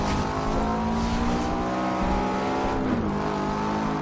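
A Subaru STI engine in a racing video game drones and revs steadily as the car accelerates, with a continuous loud whine and a brief gear-change dip midway, no talking.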